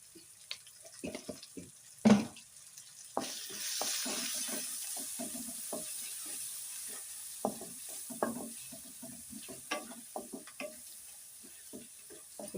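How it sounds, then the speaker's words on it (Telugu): Onion pieces fry in a pan toward golden brown, a soft continuous sizzle with occasional stirring clatters and scrapes, close and quiet, no voices. "ఉల్లిపాయ ముక్కలు గోల్డెన్ బ్రౌన్ కలర్ వచ్చే వరకు వేపుకొని"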